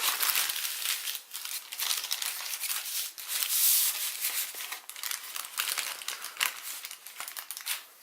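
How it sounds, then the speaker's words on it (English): Origami paper crinkles and crackles up close while a mountain fold is creased during a Pegasus model collapse, with bursts of sharp rustling and brief quieter gaps. "I'm going to make this mountain fold first."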